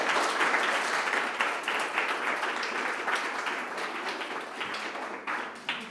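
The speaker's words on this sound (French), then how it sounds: "vous pouvez l'applaudir." An audience at a French youth-led debate event gives steady, dense applause, with many hands clapping at once in a continuous, fairly loud patter that tapers slightly toward the end.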